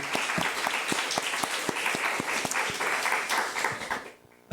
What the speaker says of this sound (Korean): 다시 한번 격려의 박수 하겠습니다.